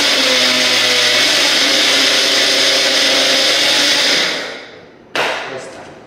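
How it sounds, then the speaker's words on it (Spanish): A kitchen blender whirs loudly and steadily as it mixes a Starbucks-style coffee drink, then spins down, with one brief sharp burst just before the end. "Y esta licuadora me encanta, miren."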